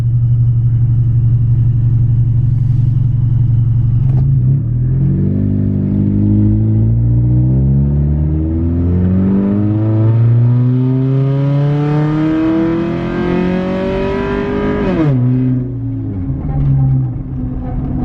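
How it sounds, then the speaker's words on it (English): A Honda CR-V with a transmission problem pulls away at full throttle from a dead stop. The loud engine idles briefly, then revs climb steadily as the speed builds, ending in a sharp shift and drop in pitch. "So like right now I'm at a dead stop, so I'm gonna go ahead and floor it."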